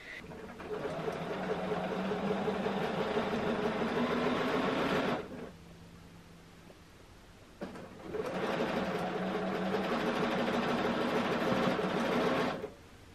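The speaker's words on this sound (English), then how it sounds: "Let's take this to the sewing machine and sew on a 1/4 inch from the edge." A sewing machine stitches quilt sections together in two steady bursts of rapid mechanical stitching, close by, separated by a short quiet pause.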